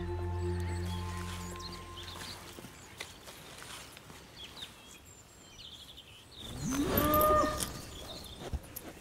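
A cow on a small Breton farm lowing once near the end, a loud, drawn-out moo over faint farmyard background hum and scattered small noises.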